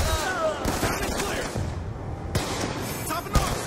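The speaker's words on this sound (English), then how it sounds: "No, it's a 4-round burst gun." A 4-round burst gun firing in Black Ops 2 video game, with crackling shots and impacts mixed under people talking in the background.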